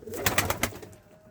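A bird's wings flap in four quick beats, close by, then the sound fades into quiet.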